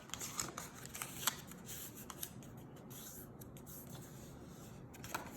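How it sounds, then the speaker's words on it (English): Card stock being folded by hand along fold lines, quiet papery rustles and a few sharp creasing snaps, close and soft, with no talk. "So now on those fold lines, let's fold the bottom up."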